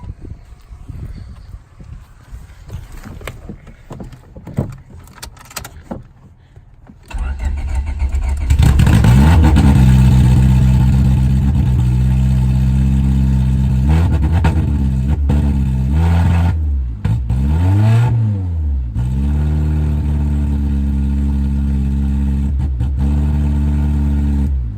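A car engine with rod knock cranks and catches, then runs loudly up close with a deep, rough, steady drone and a few revs rising and falling.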